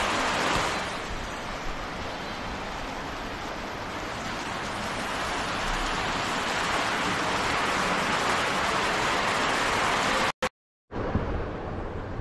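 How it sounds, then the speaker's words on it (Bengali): Heavy rain pours down during a downpour at home, a dense, loud, unbroken hiss of water that fills the whole scene, with a brief dropout near the end and no voices. "অজোর ধারায় বৃষ্টি হচ্ছে"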